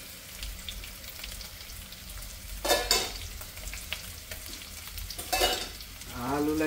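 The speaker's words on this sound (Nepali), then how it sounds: "आलुलाई चाहिँ उत्तानो पारेर भुटेपछि यस्तो पर भुट्नुपर्छ।" Potatoes fry with turmeric in a pan and are stirred, giving a steady low sizzle with two louder scraping, crackling bursts where the spoon turns them. No one speaks.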